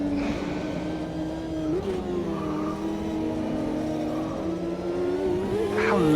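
A car engine revs steadily in a racing video game at the Parabolica corner, a low, sustained droning whine that rises and falls slightly with throttle throughout.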